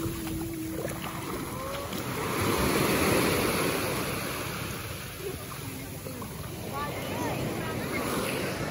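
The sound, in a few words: sea waves at the beach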